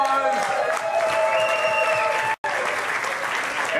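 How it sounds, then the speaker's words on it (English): Steady, loud applause fills an outdoor resort venue at Black Dog Cove, Calabogie Peaks, before a blues concert. A voice rings over the clapping at the start, and the sound cuts out for an instant near the end. "Let's get a round of applause."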